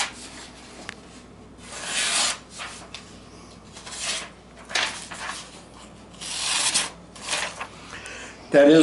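A dull knife blade is drawn through a sharpener in repeated rasping strokes, several close, gritty scrapes separated by short pauses.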